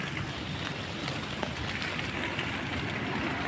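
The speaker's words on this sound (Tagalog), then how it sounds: "Ang lakas ng ulan." Heavy rain drums on a tarp shelter during a wild duck hunt outdoors, a dense, constant hiss and patter that fills the whole stretch without letting up.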